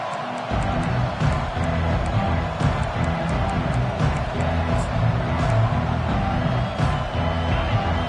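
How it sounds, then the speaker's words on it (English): A stadium crowd at a college football game cheers and roars continuously, with scattered whoops and a commentator talking over the din. "This crowd bringing an ear-splitting welcome to their visitors."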